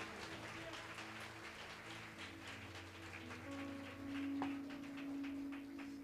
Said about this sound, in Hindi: ताली बजाकर हम तारीफ करेंगे खुदा की।